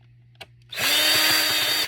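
A cordless drill whirs steadily for about a second after a brief tap, loud and close, with a slight pulsing as it works a screw on a Dyson handheld vacuum's battery.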